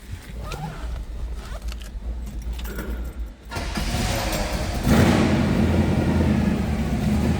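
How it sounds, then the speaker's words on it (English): A 1964 Chevrolet Impala SS with a 350 V8 bored 40 over fires up and settles into a loud, steady idle close by, a broad rumble continuing to the end after quieter rustling and clicks. "Just fired up, and again, a 350 bored 40 over."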